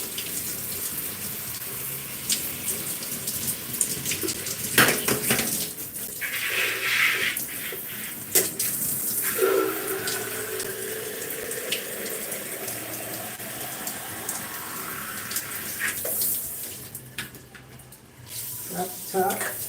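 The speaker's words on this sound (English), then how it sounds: "And let me add some water. Some warmer water to my bottle again." Warm water runs from a tap into a bottle, a steady hissing flow that continues for most of the stretch, with handling clunks and occasional taps, at a moderate level throughout.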